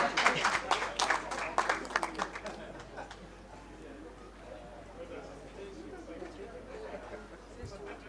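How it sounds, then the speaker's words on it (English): Applause from an audience at a high-level meeting, a burst of clapping near the start that fades after about three seconds into quiet room murmur. "Clap for me."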